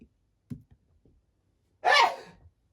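A single sharp human sneeze bursts out loud and close after a few faint breathy sounds, then trails off into quiet.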